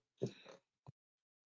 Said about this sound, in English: Apologies if you guys hear my cat in the background.